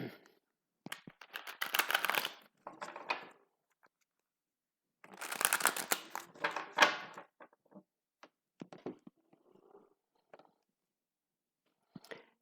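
A deck of slippery playing cards being shuffled nearby: two bursts of quick riffling flutter, each followed by soft taps and slides as the cards are squared, then scattered faint handling sounds.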